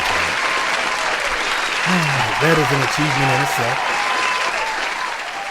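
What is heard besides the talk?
applause sound effect played on podcast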